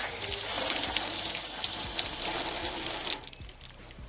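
Water pours and splashes steadily across a ceramic-coated car's paint in a close, continuous hiss, then cuts off abruptly, leaving faint scattered drips.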